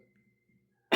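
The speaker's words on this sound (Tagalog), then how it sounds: "Actually, ubo man." A single sharp cough bursts out at the very end, loud and close, after near silence with faint low murmuring.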